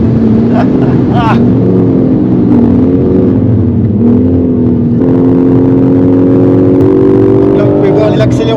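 BMW M4 G82 Competition on a race track down the pit straight, its engine droning loud and steady in-cabin with pitch rising and shifting through gears, under a voice talking.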